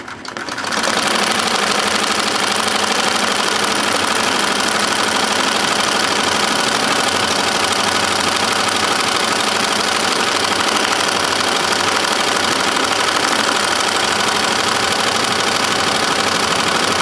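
An embroidery machine stitches a canvas tote bag with a loud, steady, rapid mechanical chatter and hum that starts up within the first second and runs continuously without pause.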